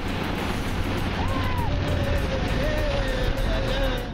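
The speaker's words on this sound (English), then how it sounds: "It's a freaking car that can drive on water." An amphibious car moves across open water, a steady loud wash of engine drone and rushing water and wind fills the whole stretch, with a faint wavering whine riding on top.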